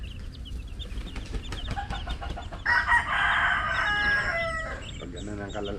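An Ulikba rooster crows once in a drawn-out call of about two seconds, standing out over the scratchy shuffling and soft clucking of the flock; voices murmur faintly in the background.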